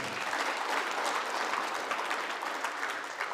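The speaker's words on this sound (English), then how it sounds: "Please a round of applause for him." Audience applause at a national conference in Kaduna, a dense, continuous wash of clapping from a large crowd, steady and even throughout.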